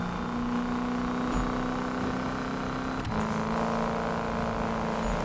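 A hot rod car's engine in the Need for Speed 2015 video game drones loudly and steadily with a held rev note, then shifts pitch briefly midway before settling back into a continuous engine hum.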